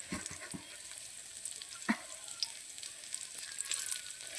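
Dal bori, lentil dumplings, frying in oil in a home kitchen, a soft continuous sizzle with a few low knocks and a brief clatter, quiet and close with no voices.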